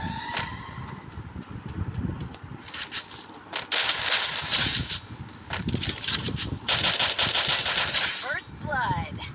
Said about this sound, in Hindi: मुझे निकालो AN-94 निकालो और हेड मारो